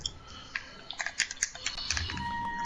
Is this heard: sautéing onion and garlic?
no